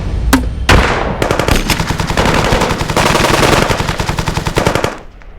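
Machine-gun fire from the Space Engineers video game opens with two sharp single shots, then rattles into a loud, close, sustained burst of rapid rounds for about four seconds before cutting off.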